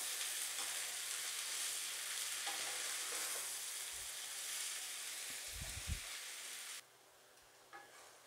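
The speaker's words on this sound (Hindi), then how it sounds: "हमारी सारी सब्ज़ियाँ फ्राई हो रही हैं" Onions and taro (arbi) fry in oil in a pan for a dry masala sabzi, a dense steady sizzle with occasional stirring scrapes and low knocks, then the hiss drops suddenly quieter near the end, no talking.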